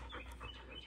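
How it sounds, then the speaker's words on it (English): A dog pants rapidly and softly close by while playing, with quick rhythmic breaths running continuously through the short moment. "My dog is just being crazy. She likes to play with me."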